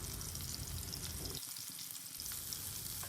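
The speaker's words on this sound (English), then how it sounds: "when the oil is hot enough we will add the Bhetki fish pieces one by one" Bhetki fish pieces fry in hot mustard oil in a karhai, a dense continuous sizzle and crackle that briefly softens partway through before resuming, close and steady with no talking.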